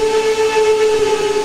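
A single-chime steam whistle in the Trainz 2019 train simulator game, on a 4-6-0 locomotive, sounds a sustained chime, loud and close, with a clear tonal pitch held throughout.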